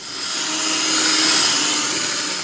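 An electric mixer runs on low speed through chewy chocolate cookie dough, a steady, close whirring hum that swells slightly and holds for a couple of seconds without any talk.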